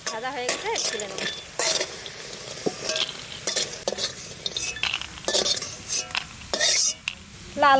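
Lentil dumplings (dal bori) and garden vegetables browning in hot oil in a home kitchen, with a steady sizzle broken by repeated scraping strokes of a spatula against the pan, close and fairly loud, no talking.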